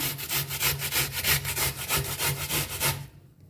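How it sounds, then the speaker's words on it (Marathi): Beetroot grated on a hand grater for beetroot dhapate, a steady run of rhythmic rasping strokes, close and fairly loud, with no talk, ending abruptly. "आता याला किसून घेऊया"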